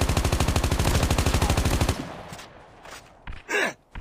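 Sustained rapid automatic weapon fire in Call of Duty Mobile battle royale, loud and evenly rhythmic for about two seconds before cutting off into scattered quieter effects and a few sharp bursts.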